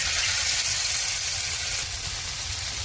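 Fish frying in light coconut oil over low heat gives a steady, even sizzle and hiss that holds at one level throughout, close up and with no voices.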